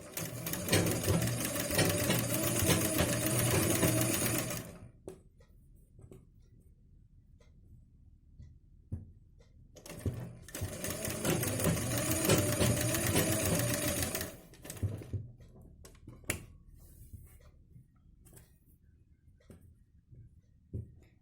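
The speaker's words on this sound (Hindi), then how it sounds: "अब हम इस पे सिलाई लगाएंगे ऐसे नेक पे इस तरह से" A sewing machine stitches along a blouse neckline trimmed with lace, running in two long bursts of rapid rattling separated by a quiet pause with faint handling noises.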